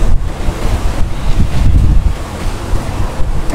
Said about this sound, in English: I'm trying to wait for the wind to die down so you guys can probably hear me better.